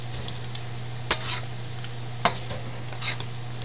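Beef fat renders in a pan with a quiet, steady sizzle and a low hum, broken by two sharp utensil knocks and a few scraping stirs.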